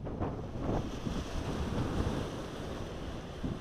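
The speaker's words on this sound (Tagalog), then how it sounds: "Lakas lalo ng hangin." Steady, strong wind roars across an open trout fishing spot, a continuous broadband rush with water lapping underneath, with no talking.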